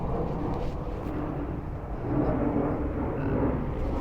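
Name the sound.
jet aircraft noise over Washington, D.C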